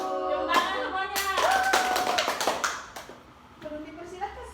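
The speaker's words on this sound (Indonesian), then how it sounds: "Tepuk tangan semuanya." Schoolchildren in a classroom clap their hands together in a burst of quick, uneven claps, with the children's voices chanting and calling out over and between them before the clapping trails off.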